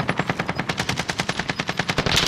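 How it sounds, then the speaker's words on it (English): Rapid automatic gunfire in the video game Call of Duty: Modern Warfare, a steady burst of about twenty evenly spaced shots, loud and close, ending in a denser blast of noise. "They're shooting. They're trying to shoot at us."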